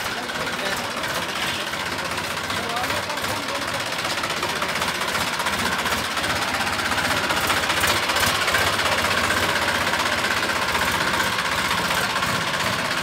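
A Massey Ferguson 245 DI tractor pulling a trolley, its diesel engine a steady, loud, rough drone that holds throughout, with a harsh, knocking vibration and no break in the sound.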